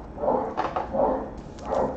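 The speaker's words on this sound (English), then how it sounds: "Goddamn dogs." Dogs barking in a few spaced bursts over roughly two seconds, moderately loud and fairly close, against a steady low background.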